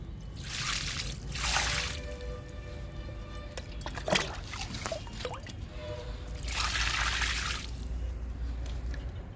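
NPK liquid fertilizer poured onto potted okra, bitter gourd and snake gourd plants in large tubs: two longer splashing pours of liquid with dripping and trickling between, close and fairly quiet, with no talking.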